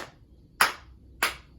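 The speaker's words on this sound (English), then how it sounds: "another 3-clap cheer for you" Classroom clapping during a math lesson: three sharp, evenly spaced claps in a steady rhythm, close and clear against a quiet room, with no talking.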